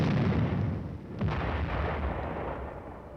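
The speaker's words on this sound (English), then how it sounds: "The M48, or Patton tank, also has a 90mm gun." The 90mm gun of an M48 Patton tank booms in a heavy, distant-sounding blast with a rumbling tail that fades over a few seconds, with no other sounds around it.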